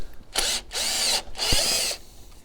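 Small power tool unscrewing 10mm bolts on a Fiat 500 1.2 engine coil pack, two short close whirring bursts with a brief pause between.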